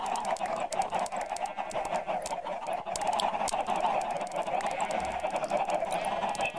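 Chickens cluck repeatedly in the game Minecraft, a steady stream of close, moderately loud clucks alongside faint clicking and tapping noises.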